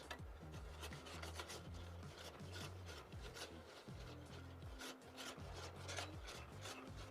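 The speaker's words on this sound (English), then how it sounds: "We're just going to whisk that until it gets nice and creamy." A whisk beats heavy cream in a pan, giving fast, rhythmic scraping and rubbing strokes against the metal at a quiet, close level with no voices.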